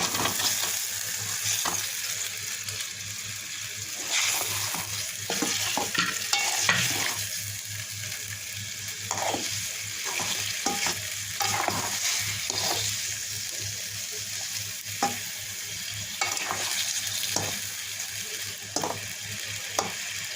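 Fried chicken pieces added to a boiling masala and stirred, with a constant bubbling sizzle under repeated scraping and clanking strokes of a spoon against the pot.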